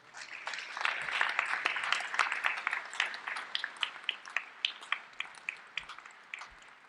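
Applause rises from a crowd at a medical school commencement ceremony, full at first and thinning into scattered, distinct claps from a few people before fading.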